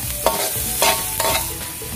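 Onions and garlic frying in a pan for a Hawaiian tripe stew, a steady close sizzle punctuated by three scraping spatula stirs in quick succession, no talking.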